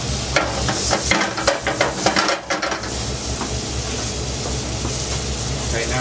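Bacon sautéing in a pan for coq au vin, a steady sizzle with scraping and stirring clatter of a utensil against the pan, busiest early and then settling into an even, close hiss.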